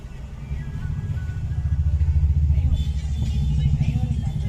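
A car that had broken down idles after repair, its engine running with a steady, throbbing rumble and rhythmic clatter close by, loud and continuous throughout.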